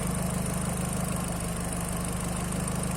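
A Volkswagen GTI's 1.8-litre turbocharged four-cylinder idles steadily on pure ethanol, still untuned, a close, even mechanical drone with a fine regular pulse and no talking over it.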